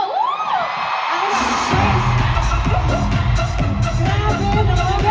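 A crowd at a concert in the Philippines cheers, whoops and shouts loudly and continuously, after a brief quieter opening.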